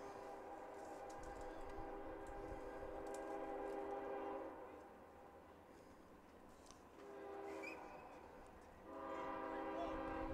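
Train horns blow repeatedly near a junior varsity baseball field in Georgia, long sustained blasts swelling and fading in sections, loud and carrying across the open field with no talk over them.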